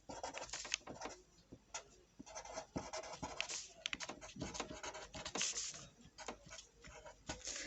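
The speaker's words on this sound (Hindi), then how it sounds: "जैसे मैं यहाँ लिख रही हूँ" Writing on a board makes quiet, scratchy strokes and taps in an uneven, continuous rhythm, close by and without speech.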